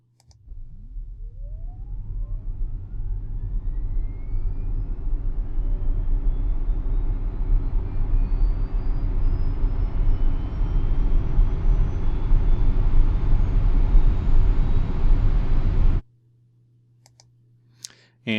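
Simulated electric vehicle with a switched reluctance motor runs up, a steadily rising whine climbing in pitch over road and wind noise, loud and continuous for about sixteen seconds before cutting off abruptly.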